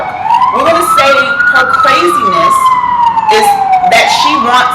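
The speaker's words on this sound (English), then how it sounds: "Excuse the sirens. I am live in New York." Emergency vehicle sirens wail along a New York street, one loud rising-and-falling tone sweeping up and then gliding down, close and continuous beneath someone talking.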